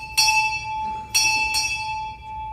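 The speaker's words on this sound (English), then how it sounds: "Time orderly, strike, 4 bells." A ship's bell is struck at a naval change-of-directorship ceremony at Naval Hospital Jacksonville, giving three clear metallic rings with long sustained tones and a faint fourth near the end.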